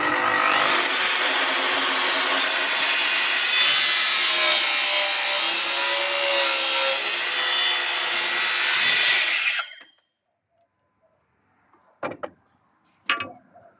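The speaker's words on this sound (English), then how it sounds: "So I've gone to my circular saw, but because the timber is pretty small, I'm just balancing the track on the other timber" A circular saw on a track cuts through small timber in one loud, sustained high whine lasting about nine seconds, then stops abruptly, followed by silence and two brief knocks.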